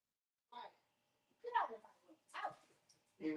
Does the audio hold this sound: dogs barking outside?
yes